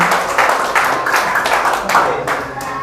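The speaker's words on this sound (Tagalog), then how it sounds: "Palakpakan po natin ang ating mga sarili" An audience claps for itself at a discipleship gathering: loud, steady group clapping fills the room for a few seconds, with a few faint voices underneath.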